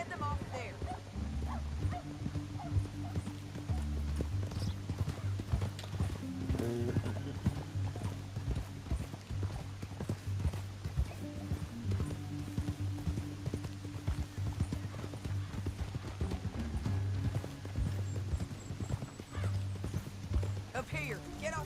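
Horses' hooves clip-clopping steadily in Red Dead Redemption 2, a continuous rhythmic trot under game music and intermittent dialogue, with a dog yipping and whimpering at times.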